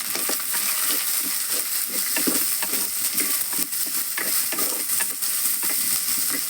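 Shallots, garlic and green chillies sizzle in a pan for a curry, with steady frying hiss and regular scraping strokes of a spoon stirring throughout.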